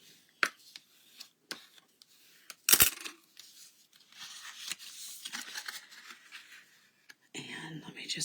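Card stock is folded and burnished by hand for a stamped paper craft project, giving soft, quiet, intermittent crinkles, taps and rubbing scrapes close by, with a brief sharper snap partway through.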